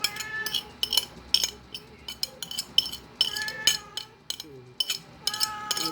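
Onion, garlic and malunggay leaves being stirred with a metal utensil, giving repeated clinks and scrapes against the pan or bowl in an uneven rhythm, close and fairly quiet, with a few faint background sounds.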